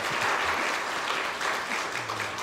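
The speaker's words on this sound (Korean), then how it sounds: "우리 한번 감사 박수 올려야 되지 않겠습니까?" Church congregation applauding in thanks during a Sunday service, a steady dense wash of many hands clapping with no break, fairly loud and filling the room.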